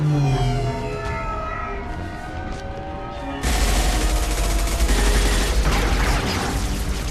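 Mass Effect 2 combat with sustained gunfire bursting in loudly halfway through, a dense, continuous roar of shots and explosions following a quieter stretch of tonal sound.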